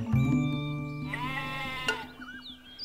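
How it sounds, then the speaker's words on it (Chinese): A sheep bleats nearby in one long wavering call, with a few faint bird chirps and a soft click after it. "那边有羊哎"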